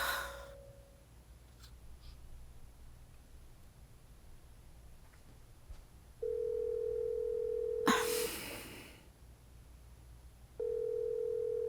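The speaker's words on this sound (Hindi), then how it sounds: "फोन नहीं उठाएगा वो, कौन जाने किस हाल में होगा।" Outgoing telephone call ringing unanswered in a quiet room: a steady tone sounds alone, pauses amid soft breathing and rustles, then a sharp noise burst and the tone resumes.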